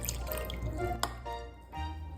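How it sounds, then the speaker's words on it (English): Water pours into sourdough starter in a mixing bowl for a sausage bun dough, a short steady trickle with dripping, close up and fairly quiet. "add on 80 grams of water"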